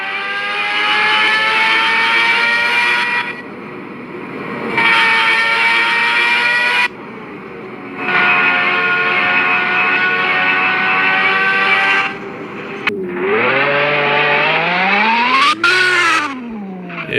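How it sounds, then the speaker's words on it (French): A Porsche sports car engine in a Roblox video game revs loudly in repeated bursts of acceleration with gaps between them, then its pitch sweeps up and down near the end, all with no talk over it. "Là, l'accélération, elle est bien faite. Et t'as vraiment un son"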